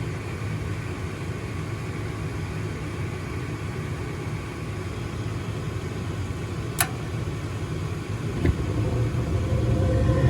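A gas furnace with one burner failing to light properly: a steady low hum and rumble, a single sharp click partway through, then a soft whoosh and swelling roar as the burner ignites near the end.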